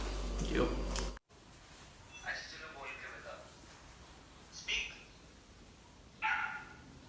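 Small, tinny dog barks and yips play from a mobile phone speaker indoors, coming in a few short, spaced bursts.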